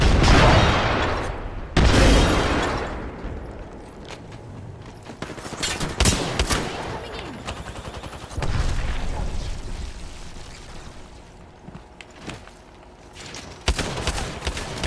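Gunfire and a frag grenade blast ring out in an Apex Legends firefight: heavy booms and sharp cracks, rapid bursts of shots, and loud impacts scattered over a busy battle soundscape.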